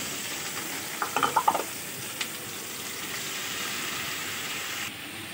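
Onion with dried and green chilies frying in a pan, giving a steady close sizzle with a brief burst of stirring clatter near the start, then a continuous hiss.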